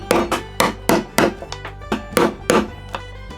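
A chisel is struck repeatedly to chop out hardwood for a dog hole insert in a workbench, about a dozen sharp, close mallet knocks in an uneven rhythm, with no talking.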